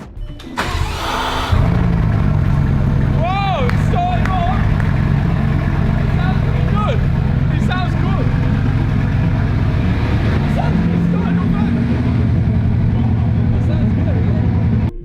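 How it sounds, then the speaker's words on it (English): A rebuilt Bugatti Chiron's quad-turbo W16, repaired after a crash, starting up in a garage: a short cranking burst, then a deep, loud, steady idle, with voices speaking over it. "The quad-turbo W16 roared back to life for the first time since the crash, filling the garage with a sound"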